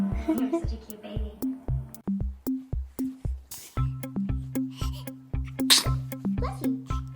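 Small, quick sneezes from a baby pop out between steady rhythmic adult voices, close and clear, with two or three distinct bursts.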